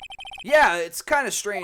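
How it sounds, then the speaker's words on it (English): A phone ringtone from the Phoenix Wright: Ace Attorney game on Switch chirps in a quick series of short repeated electronic pulses, then a voice starts talking over the fading tones. "I heard a phone ring just now."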